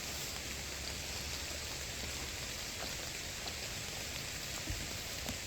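Steady rain patters on a mountain ridge trail, a dense even hiss of drops with a few louder close taps, continuous and alone with no voices.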